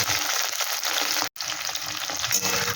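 Green chillies are stirred in a hot frying pan, giving a loud, continuous sizzle close by with scraping stirs, broken by one brief silent gap.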